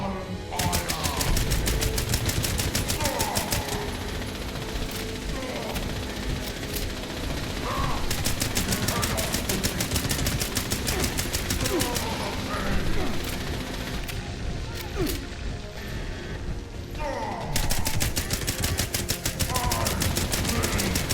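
Rapid gunfire from Fallout 76 pours out in long, loud automatic bursts, broken by brief pauses and mechanical clicks, with a voice occasionally speaking underneath.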